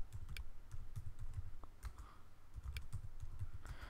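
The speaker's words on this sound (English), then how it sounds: "so I just type in rotate twice." Quick bursts of typing on a computer keyboard, fairly quiet and close, with uneven clusters of key clicks and brief pauses between them, and no voice.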